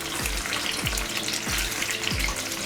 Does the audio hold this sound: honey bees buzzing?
no